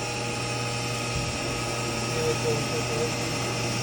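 A 1994 Haas VF-2 CNC vertical machining center runs a helical interpolation cut at about 3,500 RPM, giving a steady, loud broadband whine and hum with tonal bands throughout, continuous and unbroken, with no voices over it.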